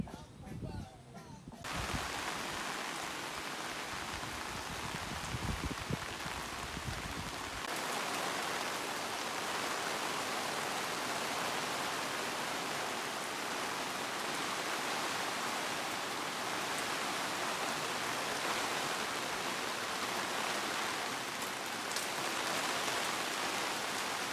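Steady, dense typhoon rain at a campsite hissing continuously throughout, with a brief muffled rumble and patter near the start before settling into an even downpour.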